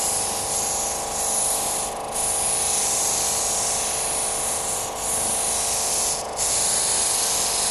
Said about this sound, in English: Don't try to sand down to the line in one go.